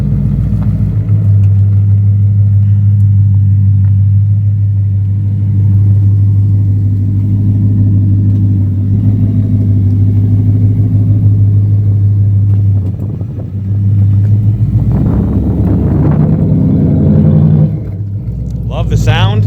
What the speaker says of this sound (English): First test drive with the new exhaust.